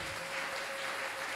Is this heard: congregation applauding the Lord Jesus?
yes